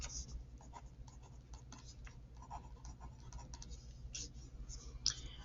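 Pen on folded paper gives faint, quick scratching strokes and small taps, close and quiet, with brief pauses between marks.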